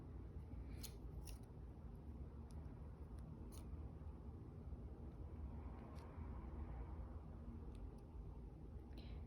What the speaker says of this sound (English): You're gonna get scissors and basically make a tip.